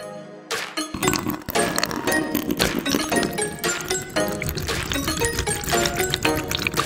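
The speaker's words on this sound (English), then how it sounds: "it's completely dipped in water and still recording without any problems" An action camera plunged into water for a waterproof test, with dense bubbling, splashing and churning underwater noise filling the clip continuously after a brief quiet start.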